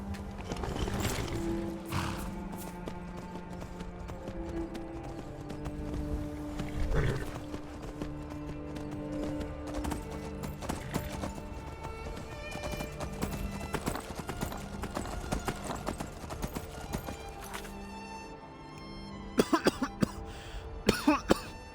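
Rhythmic clip-clop of a horse's hooves in the video game Skyrim runs steadily throughout under game music, with a few sharp louder knocks near the end.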